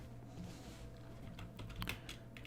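Close, soft ASMR-style tapping on a computer keyboard during a Minecraft session, irregular quick clusters of light key clicks over a faint steady hum, no voices.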